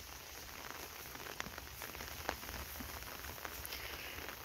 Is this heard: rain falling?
yes